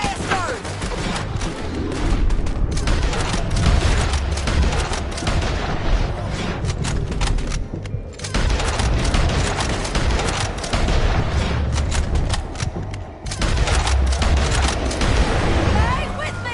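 Dense gunfire in a Red Dead Redemption 2 gunfight, continuous loud volleys and booming shots with shouting voices over the din.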